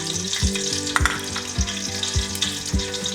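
Fenugreek seeds sizzle in hot sesame oil for a red snapper curry, a steady close crackling fry with sharp pops and spatters across the whole stretch, with no talking.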